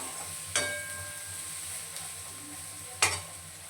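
Turmeric is stirred into onions frying in oil in a pan, giving a low steady sizzle with two sharp scraping knocks of a spoon, one early and one near the end.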